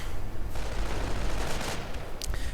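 Dense machine gun fire rattles without a break in a World War II real-time strategy match, with crackling bursts layered over a low rumble of battle.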